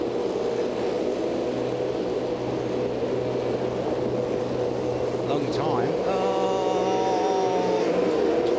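V8 touring cars from the 2001 Shell Championship Series idling and revving on the Oran Park grid before the race start, a steady engine drone with rising revs late, under a commentator's voice.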